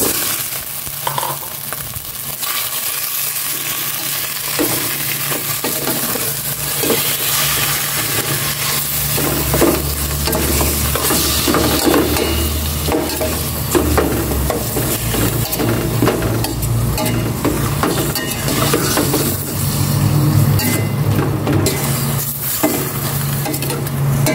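Beef for caldereta sizzles and fries steadily in a pan, with stirring scrapes and clatter running throughout, loud and close with no talking.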